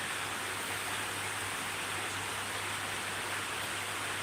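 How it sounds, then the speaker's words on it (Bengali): Heavy rain falls as a steady, even wash of broadband hiss, fairly faint and distant, with a low constant hum underneath and no talking. "জোরে নেমে গেল তো বৃষ্টি"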